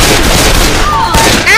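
Video game gunfire rattles loudly and continuously through the whole stretch, dense and close, with faint whistling tones over it.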